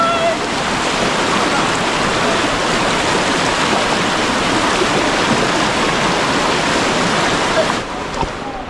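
Strong, deep river water rushing steadily in rain, a dense broadband roar that holds loud and close the whole time with no voices over it.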